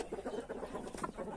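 A hen in a backyard flock clucking softly and continuously up close, a brief low murmur of calls.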